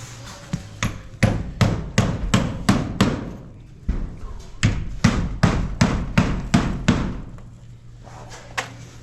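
Steady, forceful hammer blows driving nails into a new barn in quick succession, with a brief pause midway before another run of strikes.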